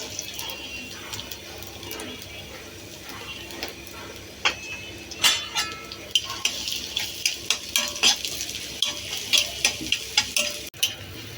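Onions fry in hot oil in a wok, making a soft, steady sizzle while a spoon scrapes and clinks against the pan in quick, irregular strokes.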